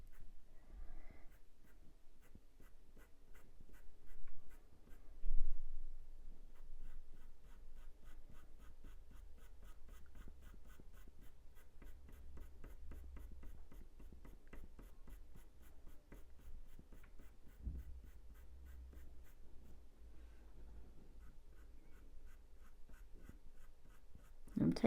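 Soft, close scratching of a pencil on paper as fur is shaded on a drawing of a ginger tom cat, continuous short strokes with a louder burst early on, no talking.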